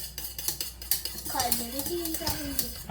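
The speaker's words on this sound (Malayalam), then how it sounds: "എല്ലാം കൂടെ നല്ല പോലെ ഇതുപോലെ ഒന്ന് മിക്സ് ചെയ്ത് കൊടുക്കാം" A mango ice cream mixture thickened with cornflour is stirred in a metal pan, the spoon scraping and clinking against the sides in quick, close strokes while someone talks over it.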